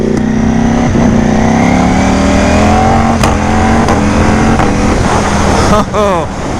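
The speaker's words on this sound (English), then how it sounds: "we'll give it a little bit more gas" A Ducati Panigale V4 motorcycle accelerates with a loud, steady engine roar whose pitch climbs through the gears, heard close from the rider's position with wind noise and a voice speaking over it.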